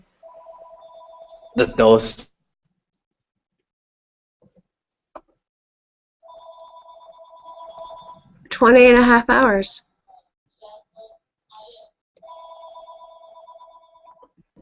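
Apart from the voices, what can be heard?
phone ringing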